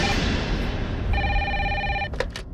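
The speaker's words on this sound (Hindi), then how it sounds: "कैसा फोन है, फिर भी बज रही है।" A landline telephone rings in a police station office, a loud electronic trill repeating in two quick bursts over a steady background hum, with no one speaking.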